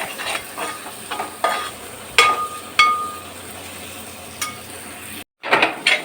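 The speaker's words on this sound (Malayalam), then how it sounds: "അപ്പോൾ നന്നായിട്ട് നന്നായിട്ട് ഒന്ന് വഴറ്റിയെടുക്കാം" Chili and coriander masala for chicken curry sautés in a pan, a steady low sizzle broken by loud scraping stirs and metallic clinks, close and without talk.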